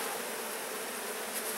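Honey bees swarming around an open hive during an inspection, a dense continuous buzz, loud and close, with no voices.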